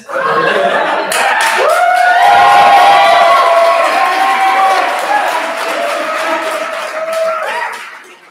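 An audience at a student capstone showcase erupts in loud, sustained cheering and whooping after the presentations, a dense crowd roar that swells and then fades out near the end.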